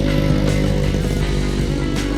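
A motorcycle engine runs loud and close with a steady buzzing drone, slight pulsing in its rhythm, heard alone without voices.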